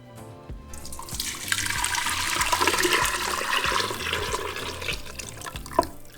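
Strained beef birria broth poured back into a cooking pot, a steady rushing splash of liquid lasting several seconds before tapering off, close and fairly loud with no talking.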